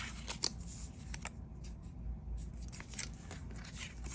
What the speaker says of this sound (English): And I find the easiest way is to cut the outside, fold it in half, and then trim the rest of it.